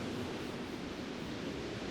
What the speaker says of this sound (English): We got white noise